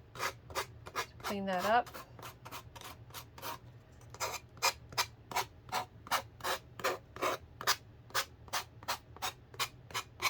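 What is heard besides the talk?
sander sanding the edges of a wooden pumpkin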